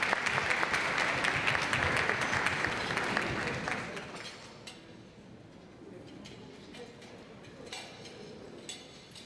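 An audience at the Miss SAKE Japan final selection claps loudly for the arriving mayor. The applause swells at first, then thins into lighter, scattered clapping that carries on to the end.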